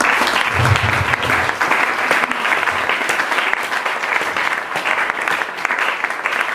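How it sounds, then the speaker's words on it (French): A church congregation breaks into sustained applause, a dense, loud patter of many hands clapping steadily throughout, with no voices rising above it. "On acclame pour la parole de Dieu."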